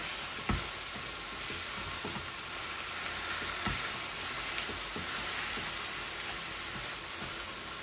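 Spinach (palong shak) fries uncovered in an open pan over low heat, giving a steady, close hiss and crackle with scattered soft stirring knocks throughout.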